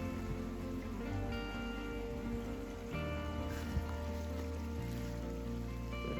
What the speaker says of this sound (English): flow of that waterfall